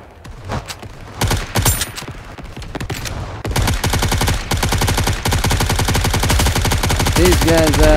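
Rapid automatic gunfire from the NIKKE video game, with dense bursts of shots rattling continuously and growing louder, while a voice talks briefly at the start.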